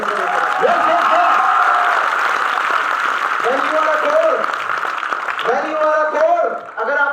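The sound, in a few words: audience applause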